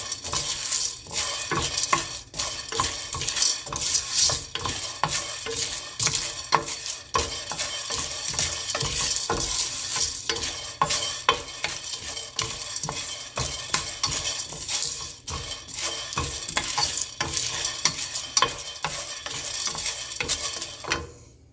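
Black gram (urad dal) roasts in a pan over a very low flame, stirred constantly so the dry lentils rustle and scrape against the metal in a busy, close, continuous rhythm with light sizzling underneath and no talking.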